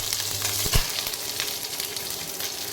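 Curry leaves dropped into hot oil with mustard seeds in a wok, a sharp crackling pop followed by a steady close sizzle.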